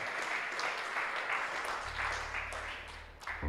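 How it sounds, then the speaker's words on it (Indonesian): Crowd applause at a Sunday church service, rolling on steadily and fairly faintly, with a low hum underneath that swells near the end as the clapping tapers. "Beri tepuk tangan bagi Tuhan."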